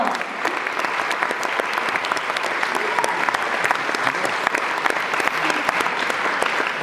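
Steady, dense applause from a concert audience at a show, with many hands clapping continuously and evenly, loud and close.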